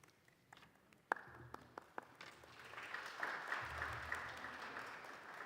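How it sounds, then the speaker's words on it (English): Applause at a roundtable business forum on economics begins as a few scattered, separate claps, then swells into a steady round of clapping from a modest audience, moderately loud and heard at a slight distance with no talk. "I think this is the first round of applause today"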